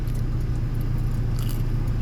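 Someone bites into and chews soft pandesal bread, with close, wet chewing sounds over a steady low rumble that runs the whole time.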